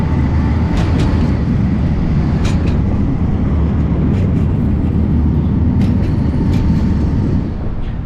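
A steady low rumble of a tram rolling across a bridge in Porto, Portugal, loud and close, with faint metallic clicks and squeals above, fading slightly at the end.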